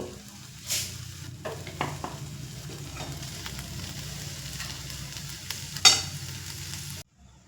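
Oil heating in a kadai for a Bengali thor and moong dal dish, a steady low sizzle throughout with a few louder clinks or scrapes, one sharp burst near the end, then it cuts to silence.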